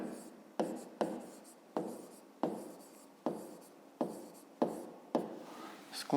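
A pen writes numbers by hand on paper, about ten short scratchy strokes each starting with a sharp tap and fading, spaced roughly half a second apart, close and quiet.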